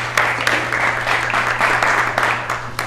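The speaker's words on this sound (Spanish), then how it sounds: "un aplauso para ti" An audience at a talk on fermented foods and living food breaks into steady applause, a dense close wash of many hands clapping with a low background hum underneath.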